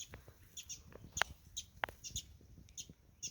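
An angry yellow mother bird near its nest gives sharp, high calls in short bursts, several spaced over a few seconds, fairly close, outdoors with low rustling background and no talk.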